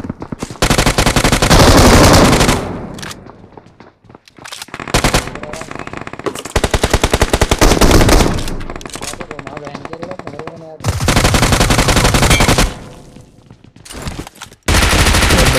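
Bursts of automatic gunfire from the mobile shooter BGMI come loud and close in repeated long volleys with short gaps between them, and brief pauses mid-fight.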